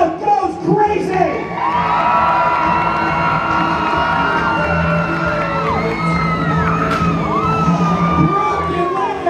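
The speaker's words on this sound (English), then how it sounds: "And the crowd goes crazy!" Crowd at a jousting event at the Ohio Scottish Games roars and whoops continuously, with excited shouts and high cheering voices over a steady wash of noise.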